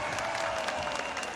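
Audience at a political youth council gathering applauds in a steady, dense wash of clapping with light crowd noise.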